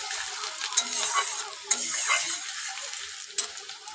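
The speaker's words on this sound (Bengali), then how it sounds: "কুচি করে রাখা পেঁয়াজটা দিয়ে দেব পেঁয়াজটা দিয়ে খুব ভালো করে কিন্তু ভেজে নেবে" Chopped onion frying in a pan, a steady close sizzle with stirring scrapes and a few sharp utensil clicks throughout.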